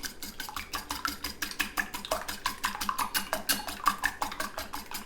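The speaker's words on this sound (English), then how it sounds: "And just give them a little whisk." Eggs whisked in a bowl give a fast, steady rhythm of light metallic taps and swishes, about four strokes a second, close and clear with no talk.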